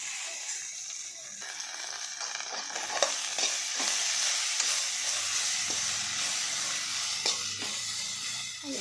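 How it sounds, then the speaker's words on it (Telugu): Mint leaves, garlic and ginger fry in hot oil for a village-style mint chutney, giving a steady close sizzle with occasional stirring scrapes and clinks and no talk. "ఇప్పుడు పుదీనా వేస్తున్నా. పుదీనాతో పాటే వెల్లుల్లి, అల్లం వేస్తున్నా."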